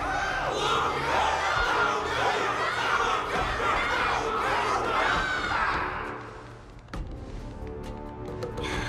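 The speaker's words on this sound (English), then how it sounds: "Can't you hear? Everyone's cheering for you, Luca!" A large crowd cheers and shouts loudly at a martial arts ceremony in the video game Honkai: Star Rail, a dense roar of many voices that swells, dips briefly toward the end, then picks back up.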